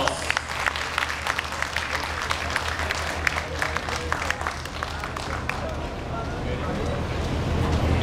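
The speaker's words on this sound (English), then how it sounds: "Give a round of applause." Crowd applause at a Nishikoi koi show in Asia, scattered and moderately loud, heard under ongoing chatter and a public-address voice, with a steady low hum beneath.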